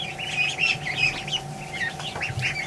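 Ducklings in a barn peep and chirp in a steady stream of high, overlapping calls, close and fairly loud, over a low steady hum.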